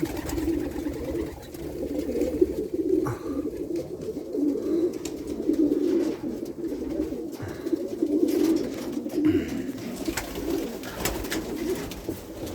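Pigeons coo continuously in low, throaty murmurs, with some scuffling and flapping mixed in as two of them fight, close by.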